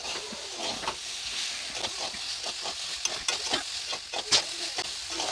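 Tomatoes sizzle and hiss in a hot pan for a Bengali vegetable curry, with repeated scraping stirs of a spatula breaking up the steady frying noise at close range.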